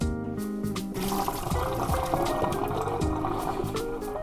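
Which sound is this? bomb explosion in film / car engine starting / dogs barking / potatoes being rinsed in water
potatoes being rinsed in water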